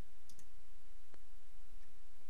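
A computer mouse gives a few sharp, isolated clicks: a quick double click early on, a single louder click after a pause, and a faint one later, over steady background hiss.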